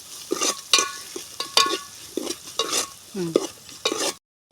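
Curry with raw prawns stewing in a pan and being stirred, giving a series of scraping, stirring strokes with a soft sizzle underneath, close by and ending abruptly.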